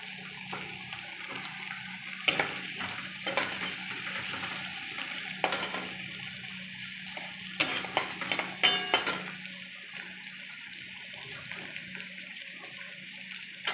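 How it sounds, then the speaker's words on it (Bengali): Carrots and capsicum fry together in a pan, producing a low, steady sizzle with intermittent stirring clatter and a few louder scraping bursts, close-up and with no one speaking. "সব একসঙ্গে ভেজে নেব।"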